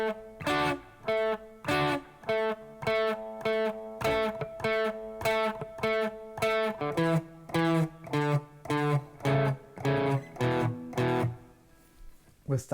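Rhythm guitar playing the chorus of a song, with strummed chords in a steady, choppy rhythm, clear and close, played alone with no talking.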